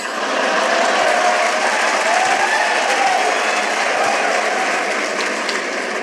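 Sustained audience applause at a Hindi satirical poetry recital (kavi sammelan), a dense, steady wash of clapping held at an even level throughout without pause.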